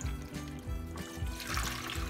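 Three cups of water pour and splash steadily into a bowl for a couple of seconds, close and fairly quiet.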